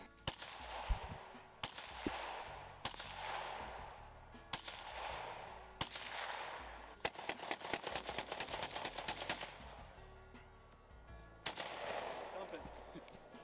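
Automatic gunfire from a magazine dump in the Halo video game: sharp rifle shots come in spaced bursts, then a fast continuous volley, loud and close with faint talk underneath.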